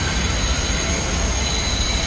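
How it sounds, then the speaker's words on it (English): A train passes close by in the Bronx, a loud, steady rumble of wheels on rails with a high metallic squeal running throughout, no voices over it. "look at the train"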